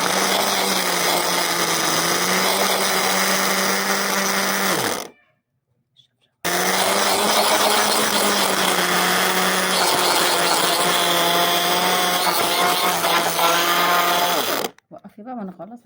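Electric blender whirring loudly as it blends couscous with a spoonful of added ingredient, running in two long bursts separated by a short pause, with a steady high-pitched motor drone that drops slightly in pitch under load.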